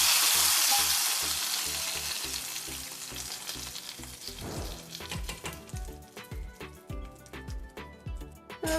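Hot tempering poured into moringa and drumstick lentil dal sets off a loud, close hiss of sizzling oil that slowly fades over several seconds, followed by softer bubbling, stirring and a few light clinks.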